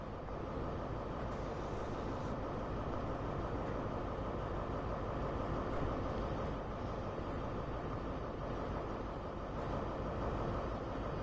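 Steady, continuous rumble of trains running on the rails in Train Sim World, a broad even roar that holds throughout with no breaks.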